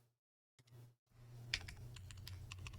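Close keystrokes on a QK80 Mk2 mechanical keyboard with HMX Hades switches and case foam: a brief pause, a few isolated taps, then a steady run of quiet clacks with some louder modifier presses.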